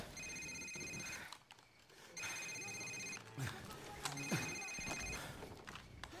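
A mobile phone rings in Call of Duty 4: Modern Warfare, three bursts of a bright electronic ringtone in a steady on-off rhythm over low game ambience and a few scuffs.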